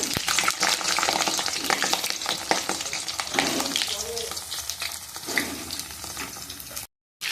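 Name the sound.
pointed gourd (potol) frying in hot oil in a wok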